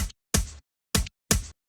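Four short, punchy drum tom hits in a quick looping pattern, close and dry with brief gaps between strikes.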